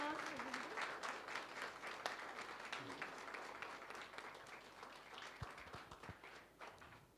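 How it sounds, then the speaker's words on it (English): An audience applauds at the opening ceremony of a carrom event, giving steady, sustained clapping from a crowd heard at a modest distance throughout. "Round of applause."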